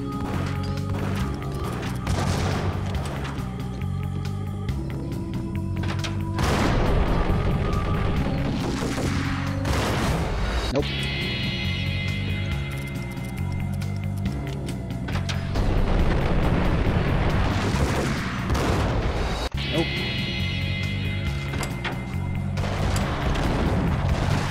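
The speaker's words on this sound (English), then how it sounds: "Actually, I'm gonna throw a grenade in first." Explosions and heavy blasts from a grenade thrown during a firefight in the 2001 game Max Payne, a few booming bursts with crashing debris spread across a loud, continuous stretch of game audio.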